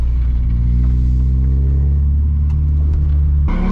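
A Volvo driven by a woman learning to drift on a short track, its engine a steady loud rumble held at a constant drone for a few seconds before a brief shift in tone near the end.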